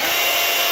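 A Ryobi 18V rotary tool spins at a fixed set speed, giving a steady high-pitched whine that holds constant through the short moment.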